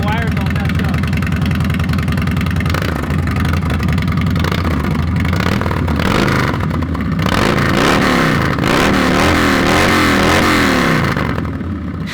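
A Harley-Davidson Road Glide bagger with a Two Brothers exhaust, mufflers pulled, idles loud and close, then revs in several rising and falling throttle blips, with voices talking over it.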